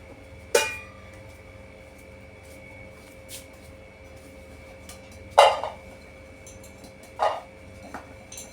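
Storage containers for vegetables are picked up and handled, giving three sharp hollow clacks spaced a few seconds apart over a quiet room, with a softer tap in between.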